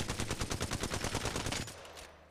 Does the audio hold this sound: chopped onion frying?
no